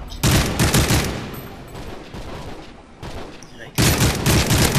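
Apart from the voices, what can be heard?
gunfire from the video game Modern Warfare 3 (MW3)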